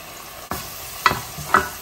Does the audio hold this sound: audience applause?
no